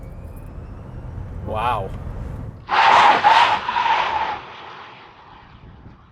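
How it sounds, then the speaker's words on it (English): Gen 2 Rivian R1S tri-motor electric SUV launching hard under launch control, a surging burst of broadband rush and whine lasting about two seconds, then fading as the run continues, with a brief exclamation just before. "The all-new updated Gen 2 Rivian R1S. Tri-motor with launch control."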